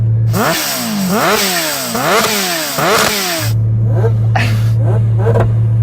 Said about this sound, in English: what I really heard was the induction sound from that supercharger